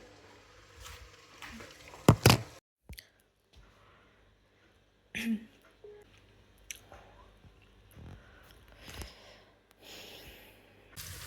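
A person eating chaat up close, with soft wet chewing, squishy bites and an occasional sniff in irregular bursts separated by near-silent pauses.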